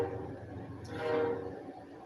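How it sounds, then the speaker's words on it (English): A train rumbles past nearby, with a brief horn blast rising over the low steady roar. "you're going to hear a train pass through with that big old horn"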